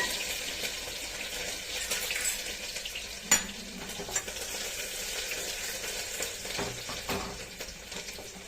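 Hot cooking oil sizzles and spatters in a home kitchen pan, a steady bright hiss with occasional sharp pops and faint clinks of a utensil, no talking.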